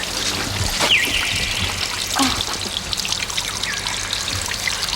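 Spring water trickling steadily outdoors in Puerto Rico, a soft continuous dribble and splash that holds even and close throughout, with no voices over it.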